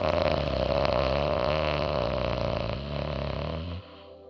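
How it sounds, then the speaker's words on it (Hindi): Ujjayi yoga breathing, a slow exhale through a constricted throat producing a soft, steady snoring rasp that holds evenly for about four seconds and then fades; no talking. "आपको मधुर खर्राटे की ध्वनि उत्पन्न करनी है"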